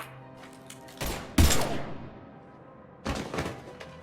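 Gunfire from a firefight in the video game Mass Effect 3, with a few loud bursts of shots a second or two apart, each trailing off into a noisy rumble.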